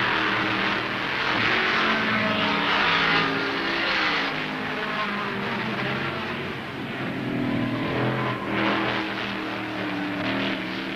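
Improved production touring cars race at Warwick Farm in November 1971, their engines roaring loud and close in a continuous, shifting drone as they accelerate through the bends, with no voices audible.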